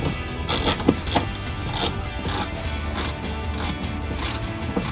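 A ratchet tightens a bolt on a Toyota Tundra truck bed cap while a third brake light is installed, clicking in a steady series of close, sharp pawl ticks over a constant background hum.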